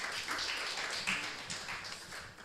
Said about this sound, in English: So let's again give her a hand of applause.